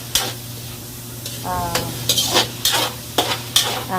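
Pancit canton noodles being stir-fried and tossed with oyster sauce, several sharp scraping strokes of a spatula against the pan over a constant hot sizzle, close and loud with no voices.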